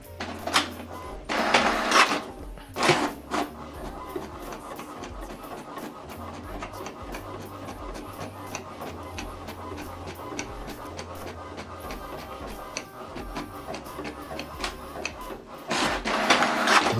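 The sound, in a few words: HP Deskjet 3700 inkjet printer printing a document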